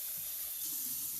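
Tap water runs steadily into a cooking pot as it fills, a continuous close hiss of flow with faint low splashing underneath and no voices.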